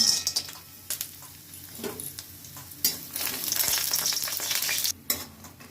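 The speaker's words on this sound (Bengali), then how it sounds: "তেলটা আমার গরম হয়ে গেছে আমি বড়িগুলো ভেজে নেব" Steady crackling sizzle of lentil dumplings frying in hot oil, with occasional louder bursts and a brief quiet moment near the end; no voices.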